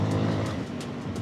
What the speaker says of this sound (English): Like right now, it's full throttle.